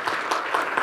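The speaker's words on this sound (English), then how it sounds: "Let's give her a warm round of applause." A conference audience at a health care reform event applauds as a speaker is welcomed to the stage, a close, loud, dense wash of clapping with slight swells.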